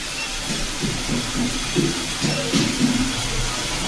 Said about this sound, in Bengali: দাদা চিমনিটা চালিয়ে দিচ্ছে